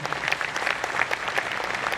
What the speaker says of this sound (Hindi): इनके लिए बेहतरीन ताली होना चाहिए।